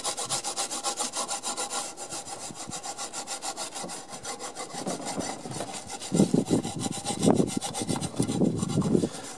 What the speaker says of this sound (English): just give this a scrub